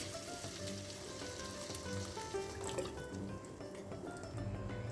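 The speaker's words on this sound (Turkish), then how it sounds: "yemeğimize şöyle üzerini aşacak kadar sıcak su ekliyoruz" Hot water poured into a sizzling pan of minced meat and peas with carrots, giving a steady frying hiss with faint liquid bubbling and clinks throughout, no voices.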